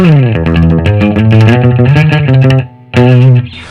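Electric guitar with a single-coil pickup tone, played in a surf music style, with clear picked notes and chords through effects, loud and up close, briefly pausing near the end before resuming.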